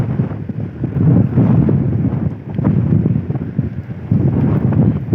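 Strong wind buffets the microphone in heavy, rumbling gusts that rise and fall continuously, with no voices.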